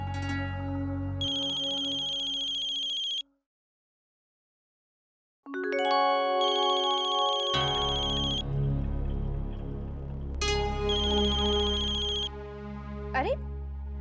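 A phone ringtone plays in repeated bursts with a short silent gap, loud and close, with a voice briefly audible near the end.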